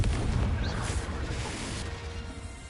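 A Confringo fire spell bursts in Hogwarts Legacy, a loud booming explosion at the start that rumbles and slowly fades into a lingering low roar.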